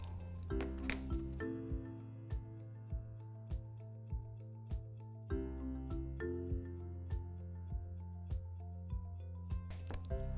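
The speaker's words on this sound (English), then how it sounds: "cut holes for the eyes" Scissors snip eye holes in folded paper, a quiet run of sharp, regular clicks over a sustained low musical tone, close and unhurried.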